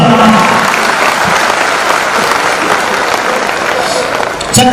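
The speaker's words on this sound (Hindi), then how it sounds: "मैं चाहता हूं एक ताली आज इस मंच से बीसी छाबड़ा जी को धन्यवाद देना" A seminar audience in a hall breaks into loud, sustained applause, dense steady clapping from a large crowd that fades slightly near the end.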